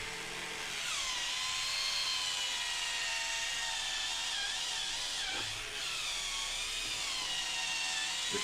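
A Kimo electric polisher with a hard solid surface pad runs on a Dell Studio XPS 435T/9000 PC case, a steady high whine whose pitch drifts as the pad grabs and bites the surface.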